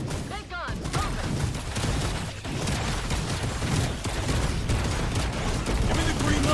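Heavy gunfire from big guns fills a Zero Space game battle, a dense, continuous barrage of rapid shots and booms with a brief dip near the start, loud and close.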